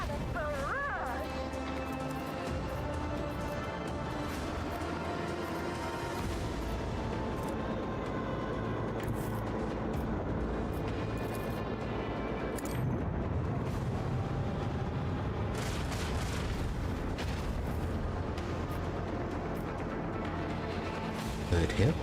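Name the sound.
macro cannon barrage in Warhammer 40k: Rogue Trader video game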